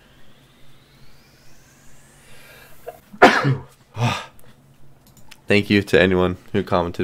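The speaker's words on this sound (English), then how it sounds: "I gotta sneeze." A single sharp sneeze bursts out close to the microphone during online slot play, followed moments later by a person speaking over faint background noise.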